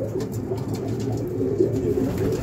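A pigeon coos softly and repeatedly nearby, low rolling calls with a faint background hum.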